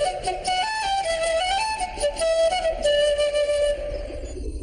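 French horn playing a smooth, sustained melodic line with gentle note changes over a soft instrumental backing, with no voices.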